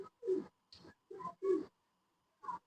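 A golden pigeon cooing close by, a short run of soft, throaty coos in quick succession, then a pause and one final coo, heard clearly with no talking.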